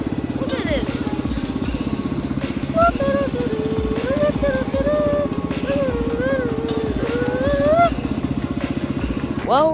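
Homemade redneck riding lawnmower rolling along in first gear, a loud steady small-engine putter close by, with someone talking over it throughout.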